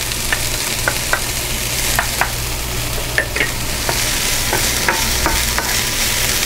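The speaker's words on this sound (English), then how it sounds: "And stir fry that up." Cremini mushrooms stir-fried in a hot pan for beef fried rice give a steady, close sizzle, with spatula scrapes and taps every second or so and no voices.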